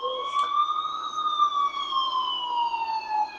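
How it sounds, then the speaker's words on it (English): A single police siren wails in a horror animation, a smooth sustained tone that slowly rises and falls, sounding distant and moderately faint with no talking. "I finally heard sirens in the distance."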